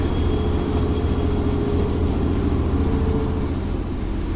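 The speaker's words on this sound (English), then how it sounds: "Especially when a gosh darn train is following you" A monster train in the video game Choo Choo Charles rumbles loudly and continuously nearby, a heavy steady rolling clatter with no break.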